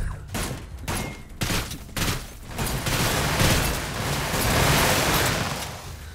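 Gunfire in the sci-fi shooter video game Seeking Dawn, set on an alien planet: a rapid fusillade of loud, close shots, sparse bursts at first, then a dense, sustained volley of firing.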